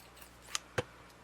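Scissors trim the knotted tail of a lace closure on a handmade envelope, giving two crisp, close snips a fraction of a second apart in a quiet room.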